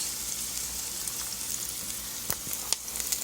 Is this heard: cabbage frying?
yes